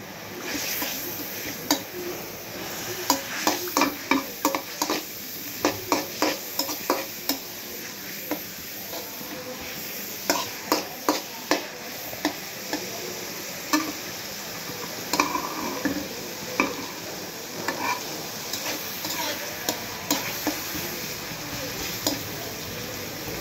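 Onions fry in hot oil left over from frying fish, a continuous sizzle broken by frequent sharp scraping stirs of a spatula against the pan, close and fairly loud.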